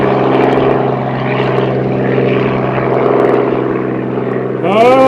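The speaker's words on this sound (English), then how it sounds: "Helicopter" A helicopter flies near the runway, giving a loud, steady engine and rotor drone that fills the whole stretch, with a rising whine joining at the end.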